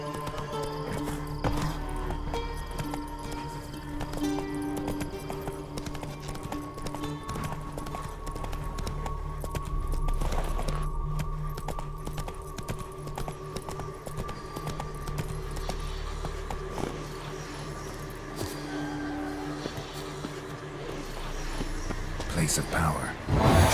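Horse hooves clip-clop steadily at a gallop in The Witcher 3: Wild Hunt, a continuous rhythmic pounding layered under game music and ambience, with someone speaking briefly.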